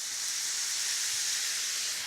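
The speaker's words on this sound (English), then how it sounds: "And you can hear that sizzle, which is great." Sauvignon Blanc poured into a pan of risotto rice, a steady broadband hiss of sizzling wine cooking off, close and continuous with no talk.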